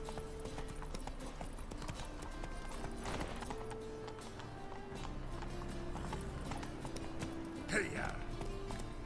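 Galloping horse hooves clop rhythmically in The Witcher 3: Wild Hunt on Xbox One, steady and mid-level beneath game music and ambience, with a voice talking over them.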